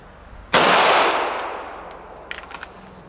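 A single loud, close Glock 19 Gen 5 pistol shot on a range, with a long decaying echo, followed by a few faint metallic clinks.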